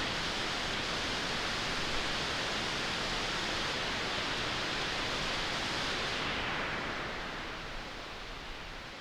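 Two layers of filtered noise from a modular synthesizer with a MiniMod ladder filter, shaped to mimic the sea: a steady, dense hiss like surf that thins and softens toward the end, with no voices.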